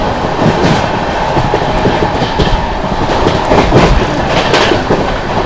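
Sealdah Rajdhani Express, train 12313, rushing along at speed with a loud continuous rumble and rattling clickety-clack of wheels on rails, heard close from on board.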